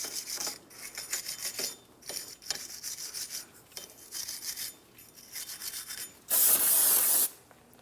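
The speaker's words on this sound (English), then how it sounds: "Use some parts cleaner and a wire brush." Wire brush scrubbed back and forth over a wheel bearing hub surface on a 2004-2008 Pontiac Grand Prix 3.8L V6, rhythmic rasping strokes in short bursts, ending in a louder hiss of spray, with no talking.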